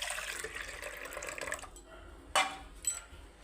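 Cooking water from boiled dal pours into mashed dal for rasam, a soft trickling splash for about two seconds, then two short louder splashes or clinks, faint and close in a quiet kitchen.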